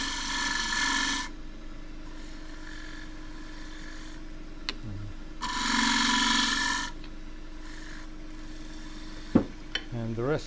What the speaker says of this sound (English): shear scrape that into a little toe and round that edge over.